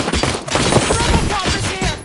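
Rapid gunfire blasts at an enemy during a RoboCop-themed action game, a dense burst of shots rattling continuously for about two seconds, loud and close, with brief gaps between volleys.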